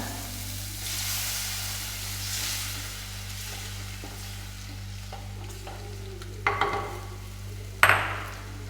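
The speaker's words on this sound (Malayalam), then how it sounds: "ഇനി നമുക്ക് ഇതിലേക്ക് ലേശം പുളിവെള്ളം ചേർത്ത് കൊടുക്കാം" Tamarind water going into a pan of sautéed tomato and onion for a fish curry, with a low steady sizzle under soft stirring scrapes and two sharper clinks of a spoon against the pan near the end.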